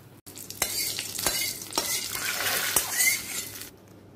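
A tempering of dry red chillies and mustard seeds frying in oil with salt, giving a bright crackling sizzle punctuated by repeated clinks of a spoon against the pan, close and without talk, ending abruptly.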